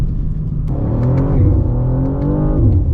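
A BMW M2 G87 engine revs up through the gears while cornering, the engine tone climbing and dropping at each upshift, loud and close, with no talk.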